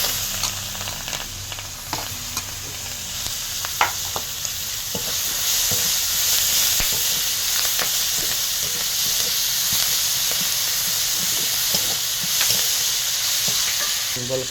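Onions fry in hot oil with whole spices (dry red chilli, cardamom, cumin, bay leaf, green chilli) for a rohu fish curry: a continuous loud sizzle and hiss, with a few stirring clatters early, then a steadier, fuller frying roar.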